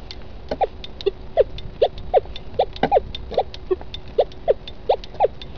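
Rutus Argo metal detector giving a repeated signal over a coin, a steady train of short, clear electronic chirps at an even rhythm, close and alone against faint background hiss.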